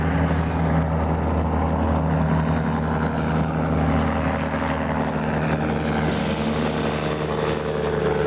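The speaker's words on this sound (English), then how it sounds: "At double the normal speed and on a crude runway, it requires a certain courage to even attempt a landing in this place." An ultralight aircraft landing on a crude runway in the Himalayas, its engine a loud, steady, close drone with a constant propeller hum that holds for the whole stretch and shifts slightly near the end, with no talking.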